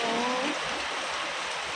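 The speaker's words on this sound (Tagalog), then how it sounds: "Lakas ng ulan," Heavy rain pouring in a dense, continuous hiss, loud and close, with no voices.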